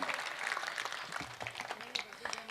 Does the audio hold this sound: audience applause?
yes